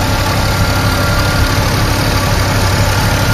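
A Toyota RV engine idles steadily and loudly up close, a constant low rumble with no talking.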